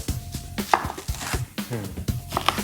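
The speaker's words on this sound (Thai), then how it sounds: "หอมใหญ่เนี่ย ผมจะหั่นให้เป็นชิ้นใหญ่แล้วให้ติดให้ติดขั้ว" A knife chops an onion into large pieces on a cutting board, steady quick irregular thuds close up, with faint kitchen clatter and no talking.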